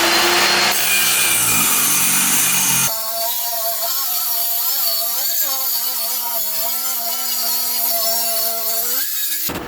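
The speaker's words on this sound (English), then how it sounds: "in my case, I'm just going to use a circular saw" Circular saw cutting through a wooden door, a loud harsh rip at the start settling into a steady high whine with shifting tonal drone, continuous for several seconds with no talking.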